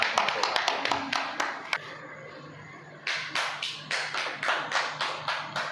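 Audience applause at a church gathering, a steady run of claps from a crowd that starts loud, drops to a lighter patter and a faint hum in the middle, then swells again to full clapping.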